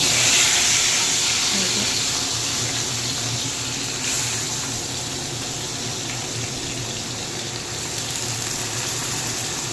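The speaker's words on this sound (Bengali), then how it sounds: "ওটাকে এখন আমি ছেড়ে দেবো তেলের মধ্যে সব একসাথেই" Tomato, eggplant, onion and small potato pieces hit hot oil together, giving a loud hissing sizzle that slowly eases into a steady softer fry, close by.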